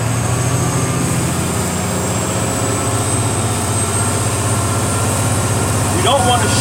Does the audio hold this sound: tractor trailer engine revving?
yes